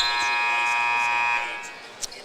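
A loud, steady electronic buzzer sounds in a high school basketball gym at the end of a timeout, holding for over a second before cutting off to quieter crowd noise.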